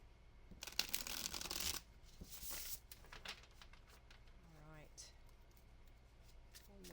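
Tarot cards are shuffled by hand, a quick riffling flutter followed by softer sliding and tapping of the deck, while a person talks quietly.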